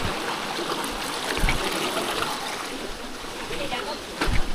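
A creek flows along a steep mountain trail, a steady close rush and trickle of water with occasional splashes, and a voice is faintly mixed in.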